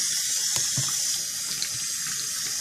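Water runs steadily from a tap onto an alum bar held beneath it, a continuous close splashing hiss with small irregular spatters and no voices.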